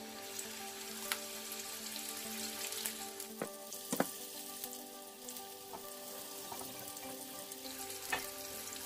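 Bitter gourd (pavakka) dropped into hot oil for a Kerala-style fry, giving a steady, close, fairly quiet hiss of frying with scattered crackles and pops throughout.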